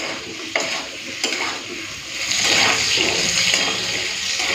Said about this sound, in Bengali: আলু ভাজার সময় একটুখানি নুন হলুদটা দিয়ে দিলাম